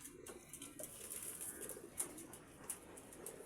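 Pigeons coo softly amid a busy, hissy outdoor backdrop, with a couple of brief brighter calls standing out over steady low murmuring.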